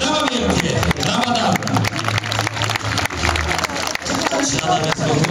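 A crowd at a knights' horseback jousting tournament cheers and applauds loudly and continuously, a dense roar of clapping and voices with an announcer speaking over it.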